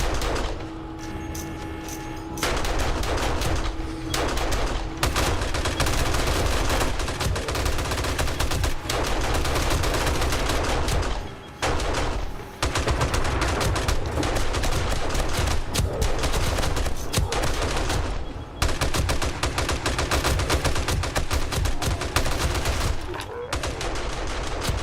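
Rapid M60 and SMG turret gunfire in the game 7 Days to Die, loud dense bursts of automatic shots rattling almost continuously, with brief gaps between volleys.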